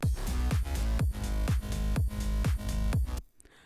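A house music drop pounds out a steady four-on-the-floor kick with dense synths and bass, then cuts off abruptly near the end.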